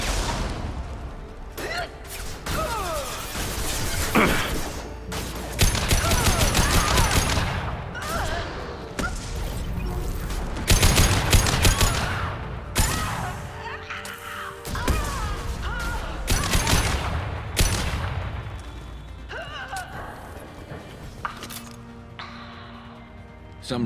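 Gunfire from a Mass Effect 2 Legendary Edition firefight comes in repeated bursts and heavy thuds mixed with whooshes and game effects, loud throughout, with occasional character voices.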